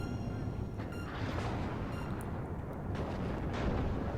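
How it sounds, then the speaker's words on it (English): Missiles slam into tanks in the real-time strategy game WARNO, heard as a dense, continuous roar of explosions and rumbling battlefield noise that stays loud throughout with no distinct pauses. "Missiles just hitting my tanks."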